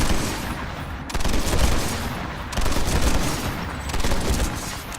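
Burst-fire weapon from a TR Infiltrator loadout in a shooter game: three distinct clusters of rapid, crackling shots spaced about a second apart, loud and close over a constant background.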